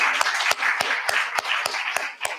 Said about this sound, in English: you should give yourselves a round of applause for being here at this first DC Water Summit